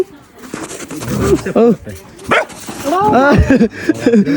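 A dog barks several times in short, sharp bursts close by in a small snow-covered village, mixed with people talking nearby.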